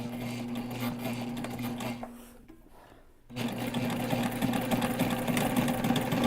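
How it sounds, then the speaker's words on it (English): A sewing machine runs close by as binding is stitched onto a backpack, a rapid steady whir that stops briefly for about a second, then resumes at full speed. "And we're just sewing this binding on."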